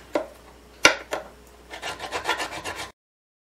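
Fret ends on a Gibson A model mandolin being filed and sanded during a refret, heard as a few sharp scrapes followed by a quick run of rhythmic rasping strokes, close and fairly quiet.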